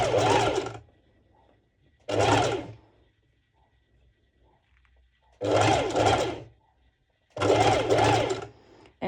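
A sewing machine basting mesh to the main fabric runs in four separate bursts of rapid stitching, each lasting around a second, with quiet pauses in between, loud and close.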